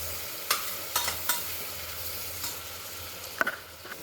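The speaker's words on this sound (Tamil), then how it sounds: "அதனால் வெங்காயம் நல்லா வணங்கட்டும் நல்லா ப்ரௌனிஷாக ஆக வந்து வணங்கட்டும்" Onions frying in a pan until browned, a quiet continuous sizzle broken by a few soft scrapes and clinks of a stirring spoon, with no talking.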